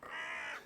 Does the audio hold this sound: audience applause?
no